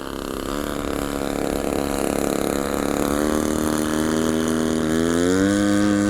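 An electric Shock Cub RC model plane makes a slow flyby, its motor giving a steady whine that holds close and loud, then rises in pitch toward the end.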